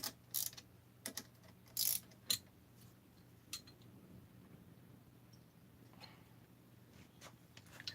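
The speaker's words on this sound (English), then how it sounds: "I love my ratcheting wrenches." A ratcheting wrench clicks in a few short, sharp bursts during work on a blower, fairly faint over a low steady hum, then falls quiet, with no one talking.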